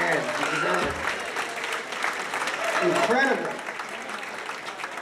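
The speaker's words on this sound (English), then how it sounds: "Give yourself a hand." An audience at a company party celebrating 13 years in business breaks into sustained, dense clapping and cheering. Someone talks over the applause as it swells and then eases slightly.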